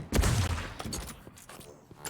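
Gunfire in the tactical shooter game Valorant during a Game Changers APAC match: a burst of rapid shots up front, then scattered quieter pops and thuds at moderate volume.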